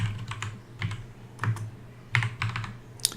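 Someone types on a computer keyboard, entering a chmod command on an Ubuntu system: close, crisp key clicks in uneven bursts with short pauses between groups.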